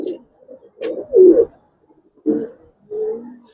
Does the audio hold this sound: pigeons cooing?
yes